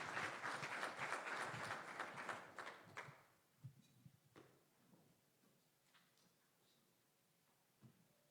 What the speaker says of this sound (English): a round of applause for the board chair